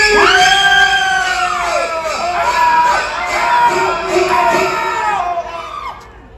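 A live audience at a Universal Studios special effects show screams together on cue, a loud, sustained wall of mixed high-pitched voices that surges and dips over several seconds before fading.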